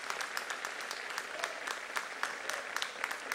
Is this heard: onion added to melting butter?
no